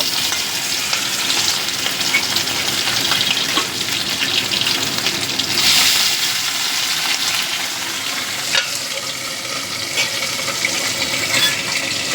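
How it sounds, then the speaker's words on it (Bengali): Parshe fish frying in hot oil give off a loud, steady, dense sizzle with bursts of crackling, continuous and close, with no one speaking. "তেলটা আমার গরম হয়ে গেছে এবার আমি পাশে মাছগুলোকে ভেজে নেব"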